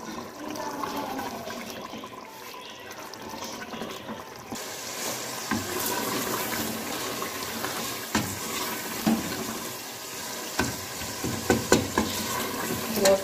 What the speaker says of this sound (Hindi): मटरों को भी भूनेंगे।